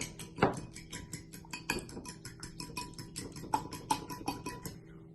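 A spoon or whisk clinks steadily against a bowl while mixing an egg and lemon hair mask, making a quick, repetitive scraping and tapping rhythm at close range.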